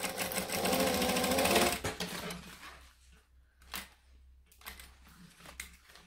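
A sewing machine runs steadily for a couple of seconds, stitching a seam on a bag lining, then stops, leaving faint handling rustles and quiet movement.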